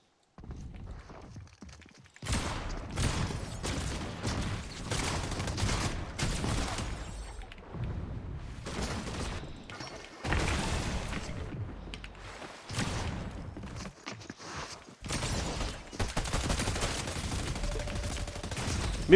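Pump shotgun blasts in the Fortnite video game, several loud, sharp shots spread across the clip among constant close game action with footsteps and other gunfire.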